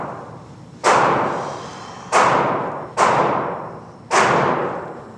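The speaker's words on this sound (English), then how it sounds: "take up the slack in the trigger and slowly press it to the rear" Four sharp gunshots from a fired handgun crack out at irregular intervals, each loud close report decaying over about a second, with no talk between shots.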